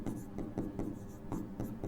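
Chalk or marker writing on a board during a Class 12 physics lesson on magnetic dipoles, with rhythmic short scratching strokes repeating about every quarter second, fairly close and steady.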